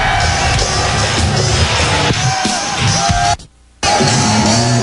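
Large crowd at the Liberty Bowl during an XFL football game between the Las Vegas Outlaws and Memphis Maniax, a dense roar of cheering and yelling, loud and continuous, briefly cut to near silence before resuming.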